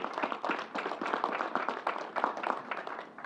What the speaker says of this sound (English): let's give Commissioner Ball and Troy a big round of applause for their good work